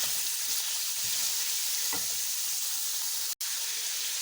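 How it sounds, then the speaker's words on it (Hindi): Chicken fries in a pan with a continuous close sizzle, a soft stir scraping once or twice, and a brief dropout near the end; no one speaks. "इसको कलर चेंज होने तक मैं चिकन को पकाऊंगी।"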